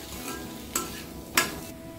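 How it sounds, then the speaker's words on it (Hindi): Potatoes frying with spices in a pan, a steady sizzle broken by two quick scraping stirs of a spoon through the pan. "हमारे आलू फ्राई हो रहे हैं"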